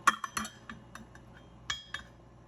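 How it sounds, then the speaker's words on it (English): A measuring cup stirred around inside a pot to scrape out sauce, producing a few light metallic clinks and taps, close and quiet, the strongest near the start and another pair later. "I want to get all the sauce out of my measuring cup, so I always stir it around"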